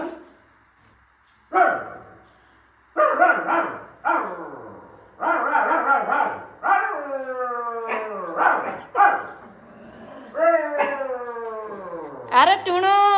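A dog at home barks and howls in a series of loud, close bursts, with long wavering yowls rising and falling between sharper barks and brief quiet gaps.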